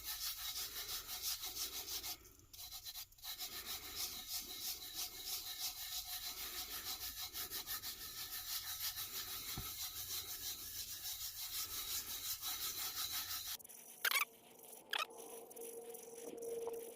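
Fingers rub down a glitter tumbler by hand, making a soft, rhythmic scrubbing of repeated strokes roughly every second. It ends with a few light clicks and knocks, quiet and close, with no talking.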